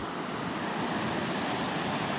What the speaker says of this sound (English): there's the Skokomish River